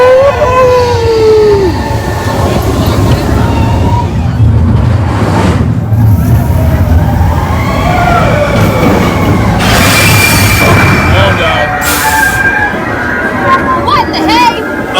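A Disney Expedition Everest ride train rolls along its tracks with loud continuous rumbling, wheel squeal and clatter, while riders talk and call out over the noise.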